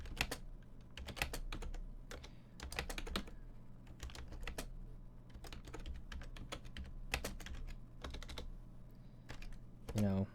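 A product description being typed on a computer keyboard: bursts of quick, close keystroke clicks separated by short pauses, fairly quiet, with a brief louder sound at the end.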